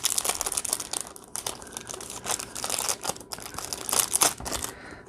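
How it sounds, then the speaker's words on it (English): Paper packaging crinkles and rustles continuously up close, loud and crisp, with bursts of sharper crumpling. "Enjoy the paper sound."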